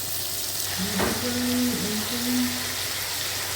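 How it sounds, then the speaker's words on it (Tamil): Onions and chopped tomatoes sautéing in a pan with chili powder, a steady close sizzle with a brief stirring scrape and a faint tonal whine in the background. "அதோட கட் பண்ணி வச்ச நாலு தக்காளியை சேர்த்து நல்லா வதக்கணும்"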